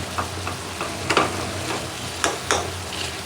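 Curry sizzling in a pan after sliced green chilies go in, a steady frying hiss broken by several sharp scraping stirs of a spoon.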